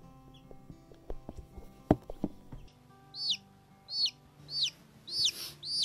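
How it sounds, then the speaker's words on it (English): Newly hatched little yellow chicks peep in a run of high, rising-falling chirps, about one a second and close by, following some earlier handling clatter and knocks. "2 new little yellow chicks."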